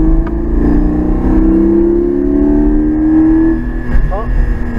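Porsche Cayman GT4 engine accelerating on a race track, a loud steady drone that rises in pitch over several seconds, with a brief shift near the end.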